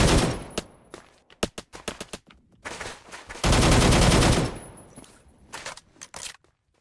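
Anti-tank rifle fire in a first-person shooter video game: a run of loud, sharp gunshots in a quick broken rhythm, then a sustained roaring blast of fire, then a few more scattered shots, with no talking.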